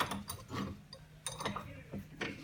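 Bench vise on a table being tightened to clamp a piece of MDF, giving a few short, close mechanical ratcheting clicks and creaks spaced across the moment.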